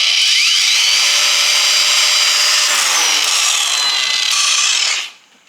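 A battery angle grinder with a 125 mm disc whines steadily at 2,500 RPM with a grinding, abrasive hiss, close and loud, before cutting off and winding down at the end.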